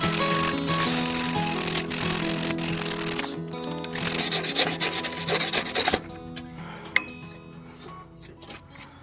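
A metal file rasps steadily over a small engine's stator and rotor pack from a garden tiller, rough scraping strokes close up, giving way to quieter, sparser scrapes and ticks near the end.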